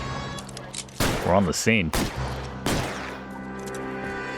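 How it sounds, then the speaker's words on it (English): Gunfire bursts out in a police shootout in L.A. Noire, several loud overlapping shots clustered in the middle with a whining ricochet, over a steady engine-like hum while someone speaks briefly. "I hear the gunshots."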